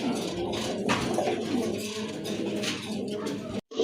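Pigeons coo at a pigeon sale, soft low calls layered over a busy ambient murmur, with faint voices in the background and a brief dropout near the end.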